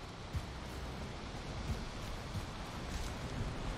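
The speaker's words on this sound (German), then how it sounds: "Hier regnet's." Steady rain falls in the video game Valheim, a dense and even hiss that runs unbroken for a few seconds at a soft level, with no voices over it.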